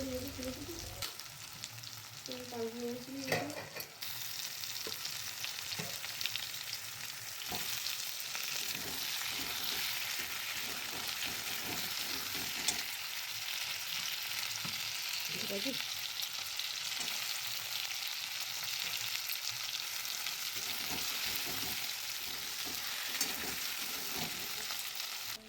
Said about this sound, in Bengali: এখানে খাসির মাংসের জন্যে আলু, পেঁয়াজ, আদা, রসুন হচ্ছে এখন কষানো।